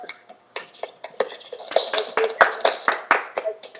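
A small group at a US alumni chapter meeting claps for newly named office bearers: scattered, uneven hand claps from a few people, fairly close and modest in volume, building slightly toward the middle.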